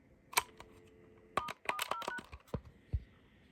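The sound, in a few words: telephone keypad button tone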